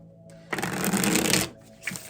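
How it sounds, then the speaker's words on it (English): A tarot deck riffled and shuffled in one brisk, close burst lasting about a second, followed by a short softer shuffle. "I'm going to give this a shuffle"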